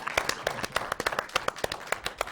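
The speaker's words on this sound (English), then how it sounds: "please cover him with applause" Scattered hand claps from a small audience at a community access television annual meeting, irregular individual claps spread across a couple of seconds, moderately quiet in a room.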